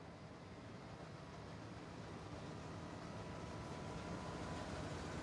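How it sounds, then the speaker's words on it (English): A train rumbling past at a steady, continuous roar, with broad low-end noise that swells slightly toward the end; no voices. "You can hear the train"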